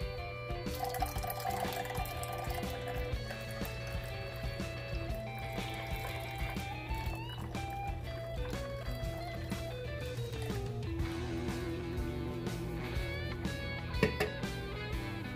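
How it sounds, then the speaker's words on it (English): Mexican beer, a Charro, is poured out for a chicken and steak fajita marinade. It makes a continuous liquid trickle and splash over a steady background hum. "We use about 8 ounces roughly of a Mexican beer"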